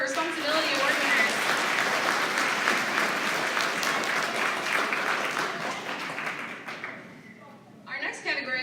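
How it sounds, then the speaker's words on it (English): An audience applauds Responsibility Award winners at a school awards ceremony, a steady wash of clapping that thins out before a brief voice and a little more clapping at the end. "one more round of applause for our Responsibility Award winners"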